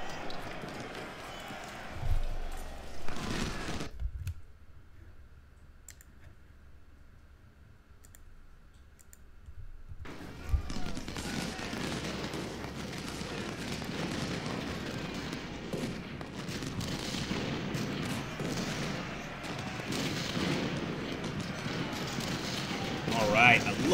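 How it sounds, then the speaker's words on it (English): Artillery and musket fire from a Civil War strategy game, the Battle of Shiloh in Ultimate General: Civil War, cracking and rumbling in dense bursts under a speaking voice, with a brief quieter stretch before the barrage resumes. "I love that artillery. Just smashing into Shaver and the rest of the Confederates here"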